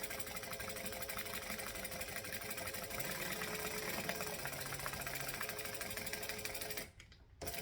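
A sewing machine stitches the long seam lines of a handbag, a steady rapid mechanical whir that runs continuously and close before cutting off briefly near the end.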